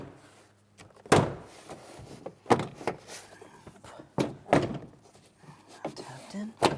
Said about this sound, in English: we'll tap this into position along the door as well